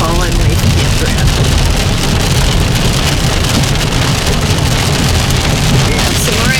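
Steady rain and road rush heard from inside a vehicle driving Highway 50 near South Lake Tahoe, a constant loud wash of noise with low rumble, continuous throughout and no clear talk.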